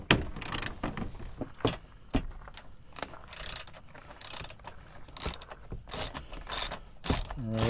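A socket ratchet clicks in repeated bursts while loosening 10 mm bolts on the front skid plate of a 2019-2024 Toyota Rav4, with a sharp metallic ratcheting rhythm and short pauses between strokes.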